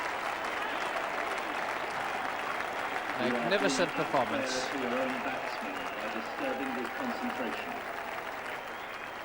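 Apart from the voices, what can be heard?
cricket crowd applauding Gavaskar's double century at The Oval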